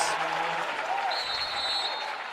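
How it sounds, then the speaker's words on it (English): Fishers home crowd at a high school girls basketball sectional against Hamilton Southeastern, a roaring mass of cheers and clapping with a few high shouts and whistles standing out on top. "This Fishers crowd is electric."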